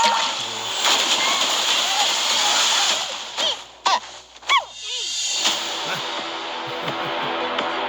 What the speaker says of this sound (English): gonna cushion our fall with this water bucket!